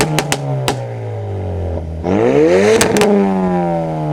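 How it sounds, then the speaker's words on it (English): A tuned 450bhp Ford Focus RS burbles loudly up close, its steady exhaust drone broken by sharp pops and crackles off throttle, a few early on and a double crack later as the revs rise and fall. "the burble tune is actually 4 2-barrel shotguns in each exhaust pipe, fully automatic, going off as soon as I left the throttle"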